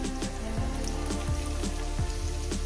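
Radish with small pond fish frying in a pan, a continuous dense sizzle and crackle that stays loud and even throughout with no talking.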